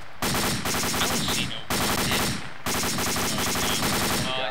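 Fast machine-gun bursts in a military shooter game, three long loud volleys back to back with short gaps between them, no voices.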